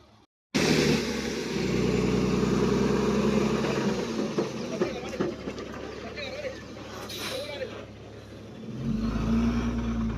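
A heavy lorry's engine labours loud and close as the truck works through a tight, difficult turn, droning steadily with a deep rumble that dips briefly and then swells again near the end, with voices talking over it.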